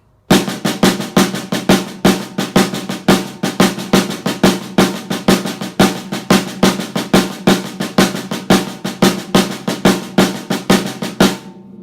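A cascara pattern is played on snare drum as alternating single strokes between right and left hands, producing a dense, even run of crisp, loud hits that repeats steadily throughout.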